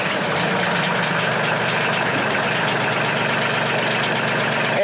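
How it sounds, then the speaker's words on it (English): A Mahindra 1626 HST 4WD compact tractor's diesel engine runs at a steady, loud idle close by, a continuous low rumbling chug with no voices over it. "So I'm going to go ahead and crank it up for you so you can hear what that sounds like."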